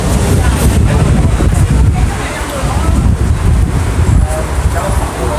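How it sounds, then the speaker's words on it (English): Heavy, continuous wind buffeting a fur-covered microphone while walking in Sha Tin, Hong Kong, a loud low rumble with gusty fluctuations throughout. "Oh, so windy."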